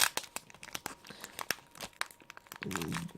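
A Pokémon booster pack from the Forbidden Light SL6 set being carefully torn open by hand, with close, crisp crinkling and tearing foil in quick bursts, ending in a steadier rustle.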